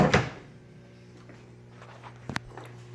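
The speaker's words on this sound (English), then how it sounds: "I'm going to close this coin door here" A Gottlieb System 3 pinball machine's coin door shuts with a quick double clack near the end, loud and close after a stretch of quiet room hum.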